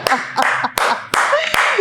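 Brief bursts of hand clapping, several sharp claps spaced irregularly over a bright, busy background of crowd noise.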